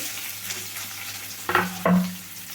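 Chopped onion and green chilli pieces fry in a pan for Gobi Manchurian, giving a steady close sizzle broken by two louder scraping stirs.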